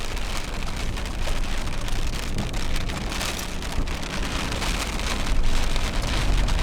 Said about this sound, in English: Here comes the rain, getting chased out again by rain.